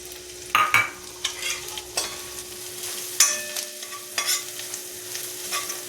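Ground masala paste fries in oil in a pan for spicy eggplant, with a soft steady sizzle broken by several sharp scraping stirs of a spoon, fairly quiet and close, with no voices.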